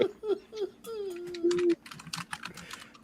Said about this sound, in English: Why are you typing like Fez, that, Dragon?